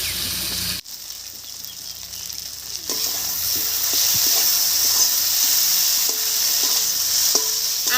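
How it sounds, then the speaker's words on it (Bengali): Ginger and dried chilli paste hits hot oil in a pan for a paneer, cauliflower and potato curry, bursting into a loud continuous sizzle and hiss, with occasional stirring scrapes close by. "আদা আর শুকনো লঙ্কা বাটা দিয়ে খুব ভালো করে নাড়িয়ে নিয়েছি"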